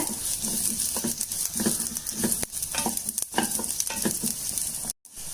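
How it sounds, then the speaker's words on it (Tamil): Whole spices (dried chilies, coriander seed, pepper, cumin, sesame, cinnamon, cloves) sauté slowly in a pan for parotta salna masala, a steady close sizzle with repeated scraping stirs and no talk. "ஸ்லோவில் வச்சு கொஞ்சம் நீங்கள் வதக்கிக்கோங்க"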